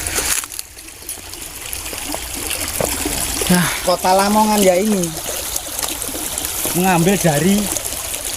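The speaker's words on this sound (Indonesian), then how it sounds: "Nah, ini Sungai Lamongnya ini." Water trickles and flows along the Lamong River in Lamongan, a steady gurgling stream beneath someone speaking in Indonesian for most of the clip.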